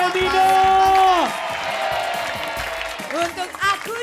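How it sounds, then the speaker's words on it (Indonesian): A studio audience applauds Domino amid shouting and cheering voices. The clapping forms a dense, moderately loud wash under the talk before the voices return. "Tepuk tangan buat Domino."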